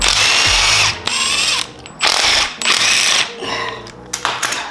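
A ratchet loosening bolts on a Honda K24 engine while swapping in a Type S oil pump, with rapid close clicking bursts separated by brief pauses, loud and alone.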